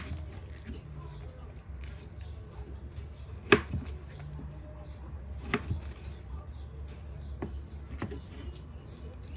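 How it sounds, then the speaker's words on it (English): A knife cuts through plantain on a board for rice dodo, giving a few sharp, separate chops spaced several seconds apart over a steady low background hum. "So right now, we're just gonna cut them."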